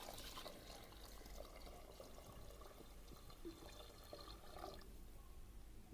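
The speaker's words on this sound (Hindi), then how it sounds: "यहाँ अब हम इसमें डालेंगे पानी।" Water is poured into two glasses' worth of rice in a pot for aloo pulao, a soft, continuous splashing pour at moderate distance with faint background noise.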